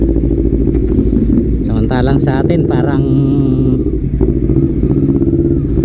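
Big Ducati motorcycles pass close by with a loud, continuous engine rumble and a brief revving surge in the middle while someone talks over the noise.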